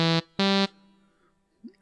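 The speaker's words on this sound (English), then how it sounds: "so we can just turn the reverb send up" Two bright, buzzy notes from a Liven Lofi-12 synth, the second slightly longer, each followed by a soft reverb tail that fades away, then a faint blip.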